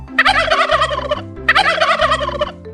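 Two loud turkey gobbling bursts, each a rapid warbling rattle lasting about a second, with a short gap between them and a low musical backing underneath.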